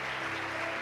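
A church congregation applauding during a worship service, a steady wash of clapping held at an even level for about a second.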